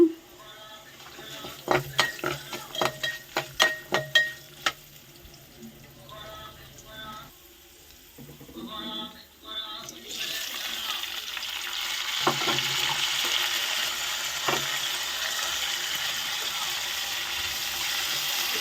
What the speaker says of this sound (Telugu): ఉల్లిపాయ టమాటా క్యారెట్ పచ్చిమిర్చి వేసానమాట